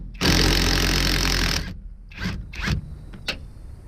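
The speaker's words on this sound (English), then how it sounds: "Now hopefully this impact will take it off and it doesn't just spin." An impact wrench hammers loudly for about a second and a half on the rear shock nut of a 4th-generation Camaro, then gives several short bursts and a final brief rattle.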